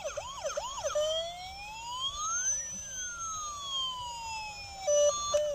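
A toy ambulance with a metal body plays its siren, a close electronic wail sweeping up and down, then a steadier tone and a few clicks near the end.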